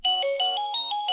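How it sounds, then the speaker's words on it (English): Ringtone alert from an eMarcos driveway sensor alarm receiver: a loud, bright electronic chime melody with quick repeating tones, heard up close and on its own. "It was easy to set up as long as you like the ringtones that they give you."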